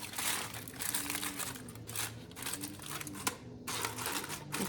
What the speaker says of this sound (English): I take a piece of foil and I just kind of crumple it up, just like this.